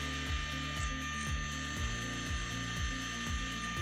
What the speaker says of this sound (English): I wanted to make sure to drill these holes as straight as possible.